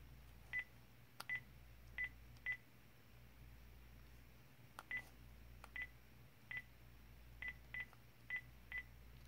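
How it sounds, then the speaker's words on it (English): A house telephone dials a number on speaker, short electronic keypad tones sounding one at a time in an irregular sequence over a quiet hum. "So this is just me dialing."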